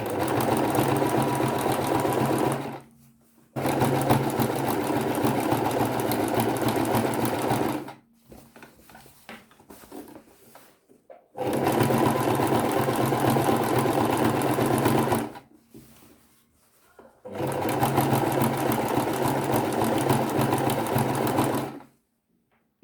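A sewing machine stitching lace appliqué onto torn clothing runs in steady close bursts of rapid needle chatter, three long runs separated by pauses with faint handling noises.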